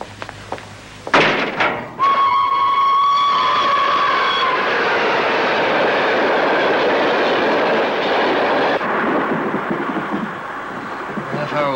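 A train rolls along rails, with a few heavy clunks and then a loud sustained horn-like tone before a steady rumbling roar of wheels and carriages continues, with faint clicking.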